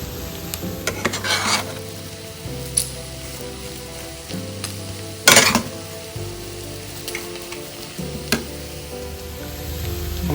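Mashed banana mixture with semolina (rava) stirred in a hot pan, a soft continuous sizzle under a spoon scraping and tapping against the metal in uneven strokes, close up and with no voices.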